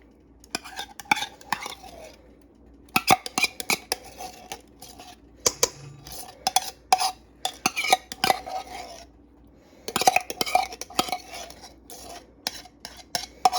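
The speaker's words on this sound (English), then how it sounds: "we're going to add in a can of mushroom soup" Canned mushroom soup being scraped in and stirred through a chicken enchilada casserole, with repeated clinks and scrapes of a utensil against the dish in irregular bursts, close and fairly quiet, no voices.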